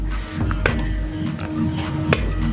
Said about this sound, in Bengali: আমি স্ক্রু ড্রাইভার দিয়ে সব দিয়ে রাউন্ড করে সব দিকে আস্তে আস্তে মেরে দিচ্ছি